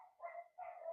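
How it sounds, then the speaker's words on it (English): A dog barks twice nearby, two short, fairly faint woofs with a brief gap between them and no other sound. "Sorry, there's a dog."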